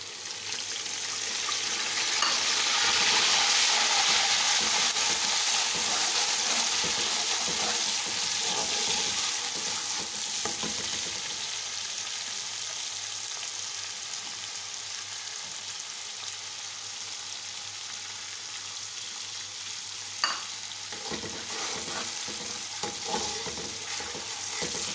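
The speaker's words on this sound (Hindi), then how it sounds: "हमारी प्याज गोल्डन हो गई है, अब मैं इसमें लहसुन अदरक डालूँगी।" Garlic and ginger fry with golden onions in a pot for Delhi-style pulao, a steady close sizzle with stirring scrapes throughout and a sharp clink of the spoon near the end, no speech.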